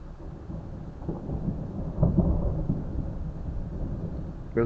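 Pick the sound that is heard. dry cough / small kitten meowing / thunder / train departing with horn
thunder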